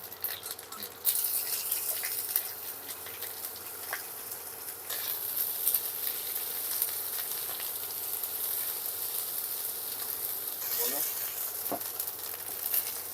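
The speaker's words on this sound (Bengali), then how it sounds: "এরকম অল্পই ভাজবো সব মাছগুলো তেলে শুধু একটু চমকে নেওয়া" Dried fish frying lightly in oil, a steady soft sizzle and crackle that holds for the whole stretch at a fairly quiet level, with occasional small pops and stirring scrapes.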